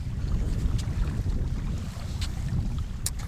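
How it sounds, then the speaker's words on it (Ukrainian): Continuous gusty wind buffeting the microphone at a winter ice-fishing spot, a dense low roar with faint higher whooshes rising now and then. "вітер так піднявся"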